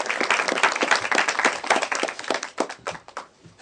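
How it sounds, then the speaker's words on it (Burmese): An audience breaks into applause with dense, rapid clapping from many hands, fairly close and loud, then thins into scattered claps before fading out. No one speaks over it. "လက်ခုပ်တီးပြီးအားပေးပေးပါနော်"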